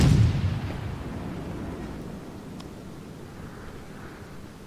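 Naval artillery fire in World of Warships, with a Königsberg cruiser taking a hit: a loud low boom opens the clip and fades into a long rumbling tail, with no talk over it.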